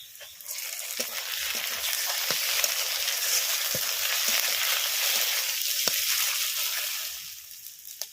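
Fish roe crackles and sizzles in a pan of oil with onions already fried reddish-brown, a steady close hiss throughout with a few sharp pops and stirring clicks.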